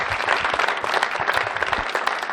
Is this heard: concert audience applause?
yes